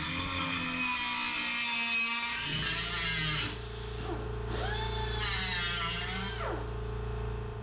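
A McGraw 3-inch pneumatic cutoff tool slices through 1/8-inch thick metal, its high-pitched whine running loud and steady throughout, dipping and rising in pitch as the disc bogs against the cut.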